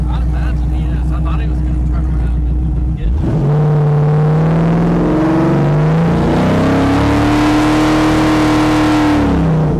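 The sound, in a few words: 408 LS swapped 1981 Pontiac Trans Am engine driving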